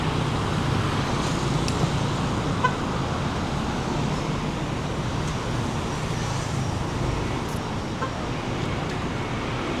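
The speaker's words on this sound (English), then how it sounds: "There you are, TransJakarta buses." Steady roar of city traffic in Jakarta, with TransJakarta buses among the vehicles, a continuous broadband rumble from nearby engines and tyres that stays level throughout, no voices.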